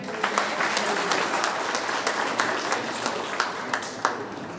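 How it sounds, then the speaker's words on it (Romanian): An audience at an awards ceremony for couples married fifty years in Dărmănești claps steadily, with sharper individual claps popping out of the continuous applause, and a faint murmur of voices beneath. "Haideți să-i aplaudăm"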